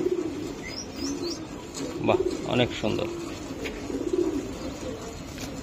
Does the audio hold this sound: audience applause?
no